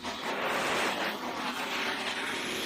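Airplane cabin just after landing, a steady broad engine and airflow roar filling the space, loud and continuous with no talk.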